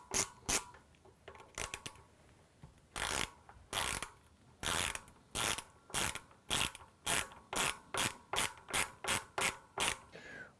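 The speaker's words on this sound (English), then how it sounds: "We'll need a hollow tipped torque bit and remove the bolts, all six of these." A ratchet driver with a hollow-tipped Torx bit works on the six bolts of a Bafang RMG060 e-bike hub motor plate, giving close, crisp bursts of clicking that speed into a steady rapid rhythm.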